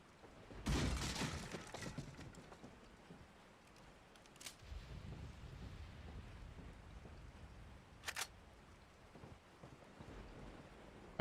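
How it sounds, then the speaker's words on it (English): Rain patters faintly outside in Resident Evil 4, a soft continuous wash broken by a loud crash early on and a couple of sharp, brief cracks later. "as you can hear, it's raining outside."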